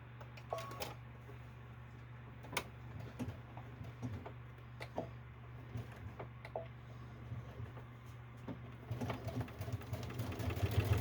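A sewing machine stitching through the lining and outer layers of a handmade bag, a low steady motor hum with light mechanical ticking, rising louder and busier in the last couple of seconds.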